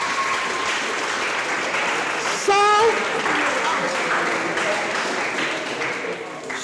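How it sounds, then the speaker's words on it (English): An audience applauds a speaker at a Stockholm+50 youth consultation, a steady wash of clapping running through the whole stretch, with a brief tonal beep and a single spoken word partway through. "Clap for her."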